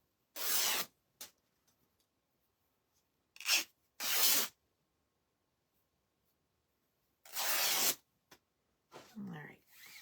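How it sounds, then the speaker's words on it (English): Paper being torn from a Christmas garland craft kit, with several short bursts of ripping spaced across the clip and a faint rustle near the end, close and fairly loud. "And then you just tear."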